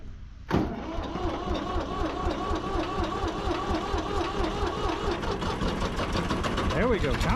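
A tractor engine cranks and catches, then settles into a steady, loud idle as it warms up, with a rhythmic chugging throb and a small rise in revs near the end.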